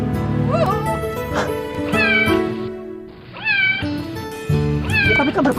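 A cat meows several times in rising, drawn-out cries, close and loud, interleaved with people talking.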